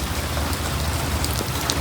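Steady rain falls in a village, a dense, continuous hiss of drops on surfaces with a low rumble beneath, loud and close throughout with no voices.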